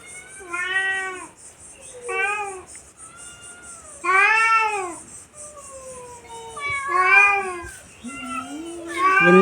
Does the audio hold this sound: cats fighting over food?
yes